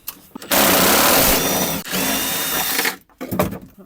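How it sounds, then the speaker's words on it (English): A power tool shears off rusted bolts on a 1974 Honda Civic, a loud continuous grinding whine that holds for about two seconds, breaks briefly, then runs again before cutting out, with faint handling noise afterward. "Come in shearing off the bolts in 3, 2, 1."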